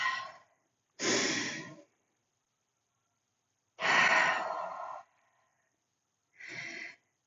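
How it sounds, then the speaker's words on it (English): Four long, deep breaths taken during a seated inner-thigh stretch in a leg and back workout, each a broad airy inhale or exhale of about a second, separated by silence and close to the mic. "Let's take 2 deep breaths."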